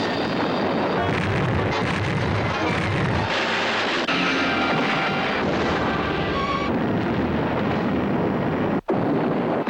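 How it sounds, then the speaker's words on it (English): A movie trailer explosion roars as a dense, loud, continuous rumbling blast with crackling bursts, sustained for nearly ten seconds and ending in a sudden cut. "An explosion always looks good."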